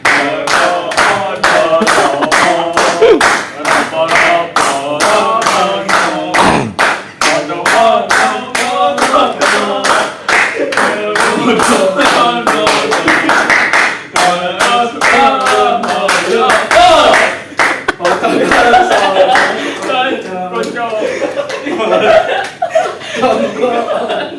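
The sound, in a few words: audience clapping hands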